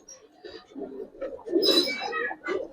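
Racing pigeons kept at rest coo close by, with soft throaty rolling coos that rise into a louder warbling call near the end.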